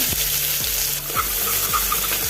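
Chopped onion hits hot sunflower oil already crackling with mustard seeds and cumin, setting off a loud, steady sizzle close by, with a low rhythmic rumble running underneath.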